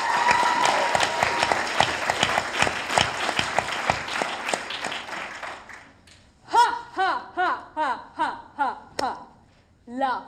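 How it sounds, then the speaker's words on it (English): An audience at a FameLab Academy science talk final breaks into a round of applause for the speaker. The dense clapping fades out over about six seconds, then a single voice starts speaking alone, with no clapping under it. "Huge round of applause for Sneha."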